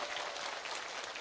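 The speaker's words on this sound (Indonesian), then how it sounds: "Maka apresiasi tepuk tangan dong untuk istri saya." Audience at a women's religious gathering applauding, a brief steady wash of many hands clapping at moderate volume.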